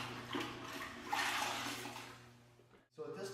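Water sloshes and swirls as a grout sponge is rinsed in a bucket after washing glass tile, a soft, fairly quiet churning that fades before a brief pause and a fresh splash.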